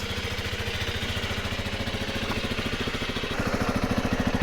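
A single-cylinder Zontes T2 310 motorcycle at around 300 cc idles while warming up, a steady low rhythmic putter close by that gets slightly louder and faster near the end.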